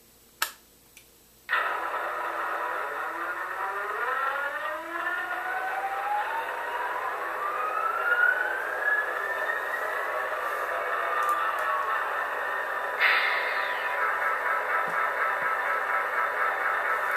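After a couple of clicks, an HO scale model locomotive's sound decoder starts up, its hum rising in pitch like an engine spinning up, droning steadily, with a later shift in tone as the air compressor kicks on.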